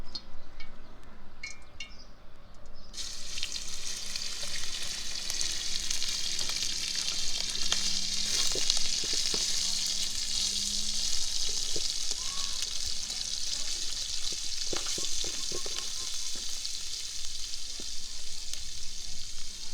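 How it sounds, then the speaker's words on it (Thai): Pork belly hits hot oil and stir-fries with a loud, dense, continuous sizzle that begins abruptly after a few quiet seconds, joined by occasional soft clinks and stirring. "น้ำมันเริ่มเดือดแล้วครับผมนำหมูลงไปครับ"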